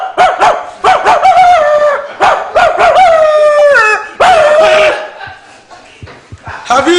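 A person imitates a barking dog with loud, rapid yelps and drawn-out howling cries in quick bursts, ending in quieter sounds near the end.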